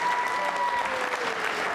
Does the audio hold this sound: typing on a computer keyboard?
no